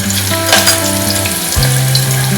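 Curry leaves and ginger-garlic paste hit hot oil in a pan, making a loud, close, continuous sizzle with a few brief clinks and stirring sounds.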